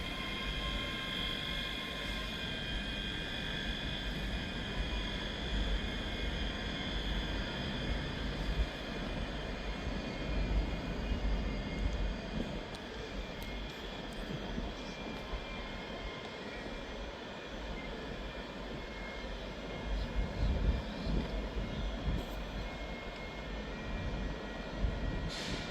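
A ScotRail train pulls into Edinburgh Waverley station, terminating there, its steady engine rumble and broad hiss filling the platform continuously for the whole stretch, with no talk.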